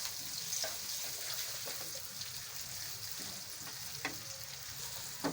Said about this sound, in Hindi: अब हम इसमें ये कटे हुए प्याज डाल देते हैं।